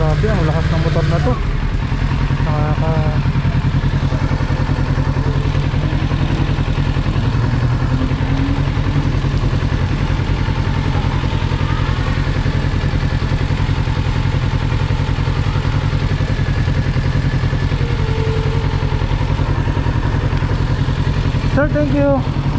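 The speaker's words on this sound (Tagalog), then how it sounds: "Grabe, ang lakas ng motor na to." A Kawasaki Z650 motorcycle engine roars loudly and steadily throughout, a constant rumbling drone with occasional revving.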